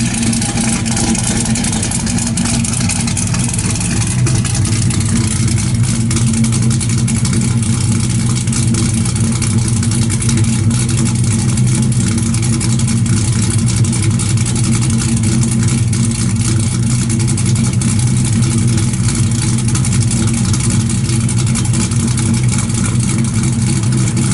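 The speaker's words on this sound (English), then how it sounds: "Got a full 3-inch exhaust all the way out the back." A 1964 Chevrolet Chevelle Malibu with a full 3-inch exhaust rumbles steadily at close range, a loud, deep, continuous engine note that holds without pauses or voices for over twenty seconds.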